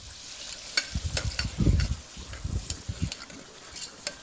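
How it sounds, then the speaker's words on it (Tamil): Onions and green chillies frying in a pan, a soft close sizzle broken by repeated scraping stir strokes in an irregular rhythm, with no talk. "நல்லா வெங்காயம் வதங்கி வச்சு பாருங்கள்."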